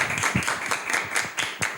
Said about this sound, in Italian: Un applauso, io direi.